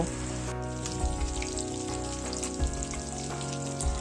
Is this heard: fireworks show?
no